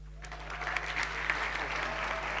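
Audience applause at a forum session on displacement, a steady wash of clapping from a seated crowd, moderately distant, with a low hum underneath and no talking.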